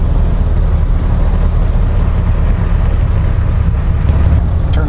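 An unrestored 1929 Ford Model A rumbles steadily while driving, a loud, continuous low engine and road drone with wind buffeting throughout and no clear break for a gear shift.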